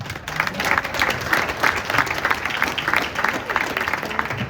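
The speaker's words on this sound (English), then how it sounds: "So a big round of applause to 2008 boys." Round of applause at a boys' soccer banquet, dense clapping from a room full of people, loud and continuous with a slightly pulsing rhythm throughout.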